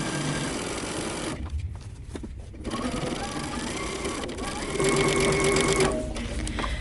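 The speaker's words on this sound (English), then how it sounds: "we're going to back stitch. And we're going to sew all the way using 5/8 of an inch seam allowance." A sewing machine stitches a dress seam at a 5/8-inch allowance, starting with a back stitch, running steadily and close with brief pauses and changes in pace.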